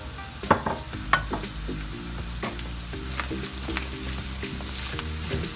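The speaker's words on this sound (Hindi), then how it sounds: "इसमें अब हम ऑनियन शामिल करेंगे। ये 2 ऑनियन हैं जो मैंने स्लाइस कर ली हैं।" Sliced onions fry in a karahi for qeema, a close, steady sizzle broken by clanks and scrapes of a spoon against the metal pan, with a few louder knocks near the start.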